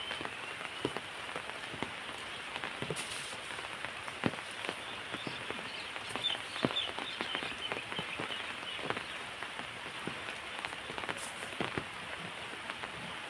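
Steady rain pattering on a surface, with dense scattered drops and sharper taps throughout, no voices.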